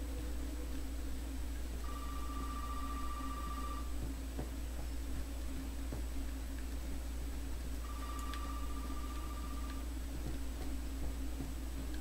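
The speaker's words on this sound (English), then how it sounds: "Like, how's a phone gonna ring?" Old telephone ringing inside a derelict house in the survival horror game Resident Evil 7, two long electronic rings spaced several seconds apart, distant and faint over a low ambient hum, with no talking.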